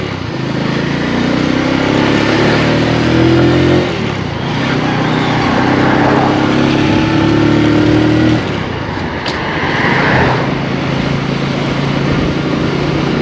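A motorcycle engine revs and strains loudly up close while riding down into a rice field, with rising and falling pitch, a brief dip around four seconds and another change near eight seconds.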